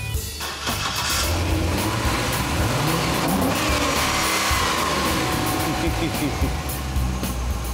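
A convertible car engine cranks and catches, then runs with a loud rumbling idle and some revs, close by, with voices talking faintly over it.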